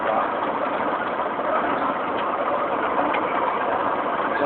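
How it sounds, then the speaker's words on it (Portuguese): A tractor engine running at roadworks in the middle of a road, a steady, continuous mid-pitched rumble heard from nearby without pauses, and no talk over it. "Tá vendo um trator ali"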